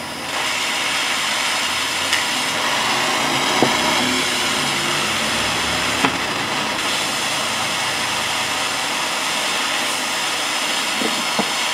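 Torch flame heating a seized brake bleeder, a steady loud roaring hiss that holds unbroken at close range, with only faint clinks over it.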